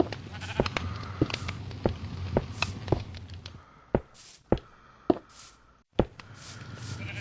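Sheep bleat repeatedly in Minecraft while a player upgrades a base, the calls mixed with sharp rhythmic footstep or block taps over a steady game background, with no talk.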